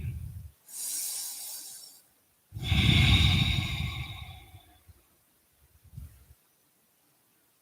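Deep, slow breaths during a yoga stretch, close and quiet, with a soft inhale, a longer airy exhale, then silence and a brief faint breath near the end.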